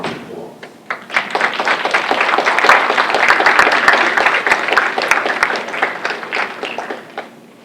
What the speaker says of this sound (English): want you guys to give the parents a round of applause